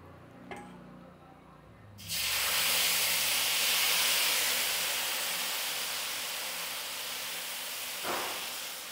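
Rava dosa batter hits a hot pan and bursts into a loud, steady sizzling hiss that holds for several seconds. A quieter stretch comes first, and a faint clink is heard near the end.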